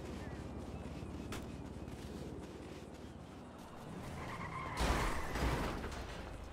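Cars pulling away in GTA roleplay, a game engine drone running throughout, then a louder burst of acceleration and tire noise near the end, with faint background talk.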